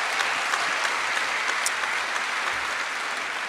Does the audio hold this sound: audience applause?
yes